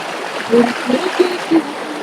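Fresh water flows in a stream at Puliyancholai, a soft continuous rush with a few brief gurgles and splashes close by.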